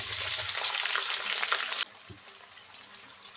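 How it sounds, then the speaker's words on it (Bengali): Chopped onion sizzling in hot oil with whole cumin in a pan, a loud crackling hiss for about two seconds before it drops to a quieter background with a brief knock. "পেঁয়াজটা একটু লাল করে ভেজে নেব"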